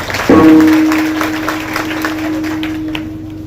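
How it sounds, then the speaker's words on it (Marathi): Audience clapping together at a Marathi kirtan, a loud burst that starts abruptly and then keeps going as steady applause while a held tone from a harmonium or drone sounds underneath. "त्या सगळ्या पालकांनी एकदा जोरदार टाळी वाजवा"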